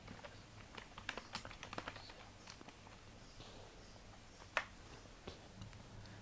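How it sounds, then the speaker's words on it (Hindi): Light tapping on a computer keyboard while composing text in Gmail, soft irregular clicks in short bursts with a couple of sharper keystrokes, close and quiet with no talking. "जो भी आप टाइप करना चाहें यहाँ पर आप टाइप कर सकते हैं"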